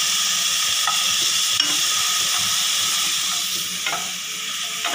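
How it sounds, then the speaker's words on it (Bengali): Chopped carrot and ginger frying in a hot pan, a loud, dense, steady sizzle with faint scrapes of a spatula now and then, easing slightly toward the end. "গাজরটা ভেজে নেব, গরম হয়ে গেছে।"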